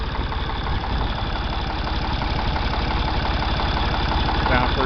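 A Ford 335 industrial tractor engine at low idle runs steadily with an even, continuous rumble and light knocking, close by and unbroken throughout.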